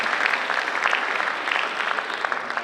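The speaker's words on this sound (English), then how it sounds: "so give yourself a round of applause" An audience at a birding festival ceremony breaks into applause, a brief, lively patter of many hands clapping at moderate loudness, with no speech over it.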